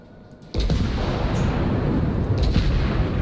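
Naval guns fire in a World of Warships battle: a sudden loud boom opens into a sustained rumbling roar of the shells, with a second faint report near the end and no voices.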